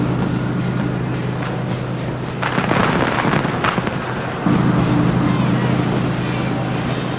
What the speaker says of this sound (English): The fireworks now going off high above